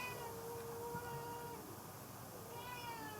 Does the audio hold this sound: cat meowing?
yes